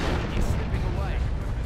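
Rapid rocket barrage from the video game Dawn of War 2 hits level 4 Plague Marines, a dense stream of booming impacts and crackling blasts that stays loud and continuous throughout, with a voice talking over it.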